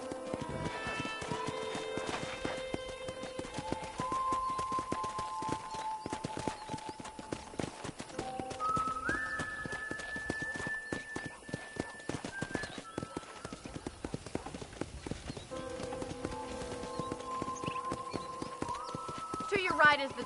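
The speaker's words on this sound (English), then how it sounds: "let's see if you can still ride a horse" Steady clip-clop of horse hooves in Red Dead Redemption trots along in a continuous rhythm beneath background music and game sounds.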